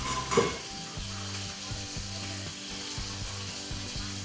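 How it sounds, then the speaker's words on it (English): Hot boiling sugar crackles and sizzles in a pan, a steady frying hiss with a louder burst near the start as it is scooped and stirred, a repeating low scraping thump underneath. "that's hot boiling sugar"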